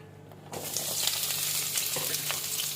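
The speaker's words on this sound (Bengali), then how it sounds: "এই দুটো একবারে আমি এখন সব এই যে হালকা সাদা তেল রেডি করেছি, এর মধ্যে ভেজে নেব" Tomatoes drop into lightly heated white oil, setting off a steady close sizzle after a brief quiet start, with soft crackles and spatters continuing throughout.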